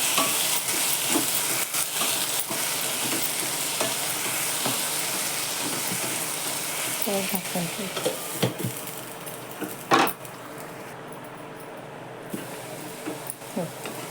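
Sweet potato pieces sautéing in ghee, a continuous close sizzle with repeated stirring and scraping clicks, quieter in the later seconds.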